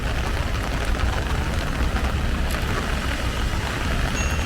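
Heavy rain pouring onto a street in the UAE by a traffic signal, a dense steady hiss of falling water with faint passing traffic underneath.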